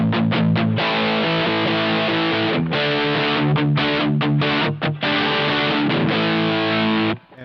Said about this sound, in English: we could also put a little reverb on top of that